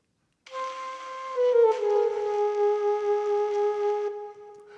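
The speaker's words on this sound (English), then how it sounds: "there's this figure right here in the alto sax in the melody," A solo alto saxophone plays a short melodic figure that slides down in a descending chromatic line with a triplet, the tone clear and sustained, heard alone and fairly close before fading out.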